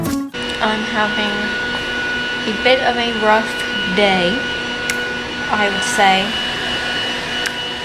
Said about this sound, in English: We dry him with the leaf blower.